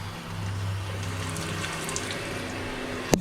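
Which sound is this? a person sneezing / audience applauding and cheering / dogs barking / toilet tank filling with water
toilet tank filling with water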